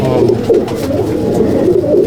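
Pigeons coo in a pigeon loft, with several close, low, rolling calls repeating steadily throughout.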